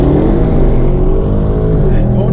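An Audi RS6 launching hard under launch control from standstill toward 200 km/h, its engine roaring loud and close with a continuous dense rising drone that never lets up.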